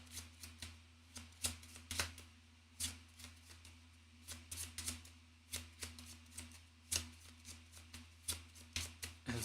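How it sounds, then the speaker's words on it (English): A deck of cards for a board game is shuffled close by, quiet repeated riffles and snaps in an uneven rhythm over a low steady hum, with no talking. "So we have to shuffle."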